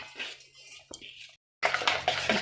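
A spoon beats dhokla batter of sugar, salt and lemon powder in a bowl, giving close, brisk scraping and clinking strokes that break off for a moment of silence, then return louder.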